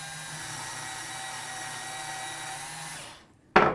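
Wilson case trimmer driven by a power adapter trims a cartridge case, giving a steady close motorized whine for about three seconds before it winds down, followed by a brief sharp clack.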